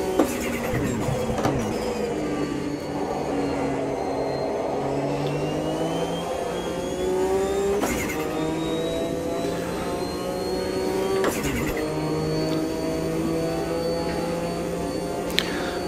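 Porsche race car engine in the Automobilista 2 sim racing game, a sustained high-revving drone whose pitch rises and falls through gear changes, with a few sharp shift blips, steady and loud throughout.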